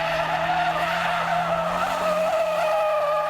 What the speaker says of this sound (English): So you can do power slides.